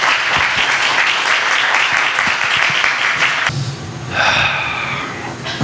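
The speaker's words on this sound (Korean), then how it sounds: "목사님 나오실 때 우리 큰 박수로 환영해 주시기를 바라겠습니다." A church congregation gives a welcoming round of applause for a pastor at a prayer meeting, dense steady clapping that cuts off abruptly, followed by a short murmur and shuffling from the gathered crowd.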